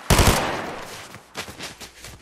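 Gunfire in a shooter video game: a loud, rapid burst of close shots, then a tail of quieter scattered shots over about two seconds.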